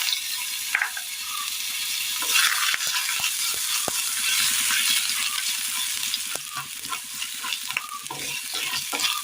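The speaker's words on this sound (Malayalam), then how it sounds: "എണ്ണയൊന്ന് ചൂടായി വന്നിട്ടുണ്ട്. ഇതിലേക്ക് നമുക്ക് കടുകിട്ട് കൊടുക്കാം" Mustard seeds dropped into hot oil in a curry pan: a loud, continuous frying hiss peppered with sharp crackling pops and the occasional scrape of stirring, close up with no talking.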